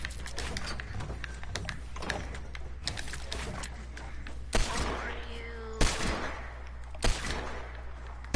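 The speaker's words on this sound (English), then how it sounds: "He's shooting at me." Gunfire in a video game: sharp shots scattered through the clip, a few louder cracks standing out, over steady game background noise and players talking.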